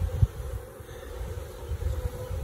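Honey bees on hive frames give off a low, steady buzz with small swells in loudness, close by and with no talk over it.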